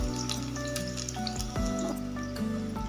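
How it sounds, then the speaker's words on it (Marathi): Chopped onion frying gently in a pan over a low gas flame for chicken soup, giving a soft, steady sizzle that carries on throughout with no talking. "कांदा घालून घेणार आहे त्याला आणि बारीक थोडं फ्राय करायचं"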